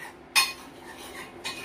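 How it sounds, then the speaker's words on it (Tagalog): A metal utensil stirring a mixture in a pot for a corn-rice and sardine meal: two sharp clinks and scrapes about a second apart over a quiet background. "i-mix natin ng mabuti yan para malasa siya"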